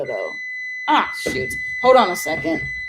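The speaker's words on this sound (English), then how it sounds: "that was the timer for me to start cooking the rice in the rice cooker" A kitchen timer for cooking rice in a rice cooker beeps as a steady high electronic tone throughout, with a person talking over it.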